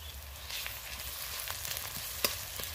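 Onion and garlic paste fries in a pan for a mutton curry, giving a steady, close sizzle with light crackle and a few sharper pops and stirring clicks throughout.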